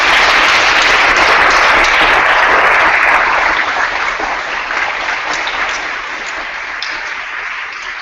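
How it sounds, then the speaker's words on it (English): Sustained audience applause from a large crowd at a conference session, a dense wash of clapping that stays loud and slowly fades over several seconds, with no speech over it. "thank you for the applause"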